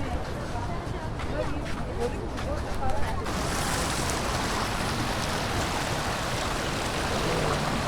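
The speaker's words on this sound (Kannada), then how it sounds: "ನೀರು ಪ್ರೆಷರ್ ಐತ್ರಿ ಫುಲ್." Gokak waterfall in Karnataka sends down a full, high-pressure torrent heard from a viewpoint near the top, a dense, unbroken roar that fills everything and swells noticeably louder partway through, with no one talking over it.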